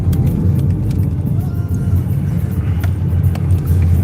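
Steady low engine rumble and road noise from a car being driven, loud and constant from inside the cabin, with faint occasional clicks and no clear talk.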